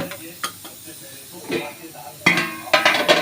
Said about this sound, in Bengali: একদম ফোটা গরম জল মধ্যে দিয়ে দেবো